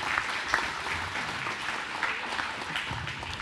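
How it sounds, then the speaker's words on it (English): An audience at a farm-city breakfast keeps applauding, a moderately distant, continuous patter of many hands with a few sharper individual claps standing out, and no talking over it. "continue your applause momentarily, and let's thank Travis."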